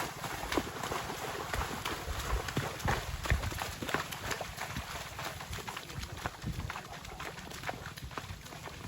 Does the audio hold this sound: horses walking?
yes